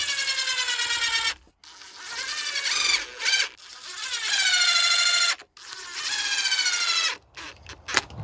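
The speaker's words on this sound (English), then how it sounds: "drive in a couple of screws" A power drill drives screws through galvanized steel strap into wood, its motor whining up in long loud bursts that stop abruptly between screws, with brief clicks and gaps between runs.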